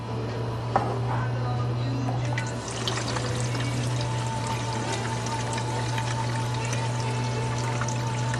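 Gasoline pours into the fuel tank of a Tecumseh lawnmower, a steady close trickle over a constant low engine-like hum, with a few faint clinks.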